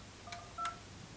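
Two short keypad tones from an Alcatel-Lucent 8068 premium deskphone as an extension number is entered, crisp, close and quiet over faint room hush.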